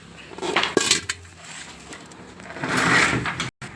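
A lid goes onto a metal pot of mixed murukku dough with a sharp close clink, followed by softer scraping and clattering of kitchen vessels.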